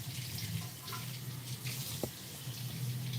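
A tap runs steadily into a sink, a constant close hiss of flowing water with one brief clunk partway through and no talking.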